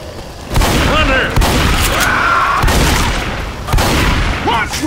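Bursts of gunfire and booming shots ring out in Left 4 Dead 2, mixed with shouting voices and in-game chatter, loud and chaotic over several seconds.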